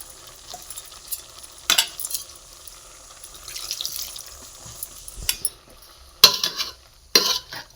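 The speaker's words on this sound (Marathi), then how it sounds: "आणि ढवळून घेऊया एकदम छान मेंढेपर्यंत भाजी शिजवून शिजवून घेऊया" Jackfruit vegetable curry is stirred in a pot over a wood-fired stove, with scraping strokes and wet bubbling between sharp clatters, close and fairly loud with no talking.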